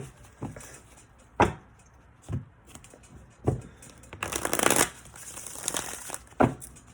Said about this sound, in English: I'm just going to do a quick shuffle on this